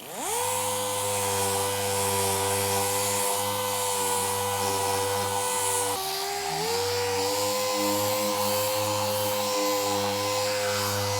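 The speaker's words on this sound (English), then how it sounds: "I've got 220 grit on a finish sander. I'm just going to go around the outside edges." A finish sander fitted with 220 grit paper whirs continuously around the outside edges of Bondo filler, a steady close motor drone that dips briefly in pitch midway.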